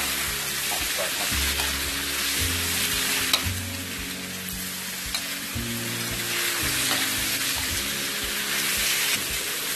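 Sweet shrimp stir-frying in a pan, a steady crackling sizzle with scraping stirs running throughout, close and fairly loud with no voices.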